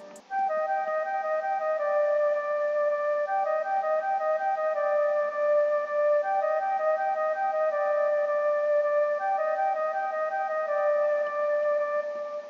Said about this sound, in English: I used a flute for this,